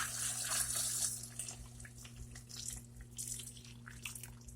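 Liquid pouring into a bowl of cherries while making homemade maraschino cherries, a quiet trickling splash strongest at the start, then lighter intermittent drips and trickles.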